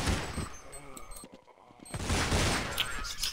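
Pistol gunfire during a Counter-Strike pistol round, rapid cracking shots in clustered bursts with a short lull, under a commentator's voice.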